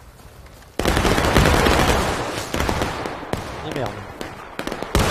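Musket volley from massed infantry in the video game War of Rights, a sudden loud crackling burst of many shots followed by continued ragged gunfire and echoes, with a voice briefly over it.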